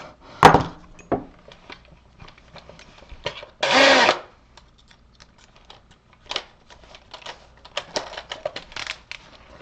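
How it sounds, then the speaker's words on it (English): A drill bores holes into a model platform, one sustained loud whine burst near the middle among scattered clicks and handling taps, close up with no talk. "we're drilling some holes."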